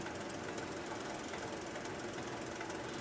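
A wood lathe spinning at about 400 RPM while a 3/8 inch swept-back bowl gouge cuts a bowl gives a steady, even rushing and grinding noise that runs unbroken throughout, moderately quiet, with no speech.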